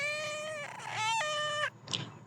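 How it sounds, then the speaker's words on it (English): A cat gives a drawn-out, two-part meow, loud and close, followed by a short high squeak, with nothing else in the background. "Can you tell sound of cat?"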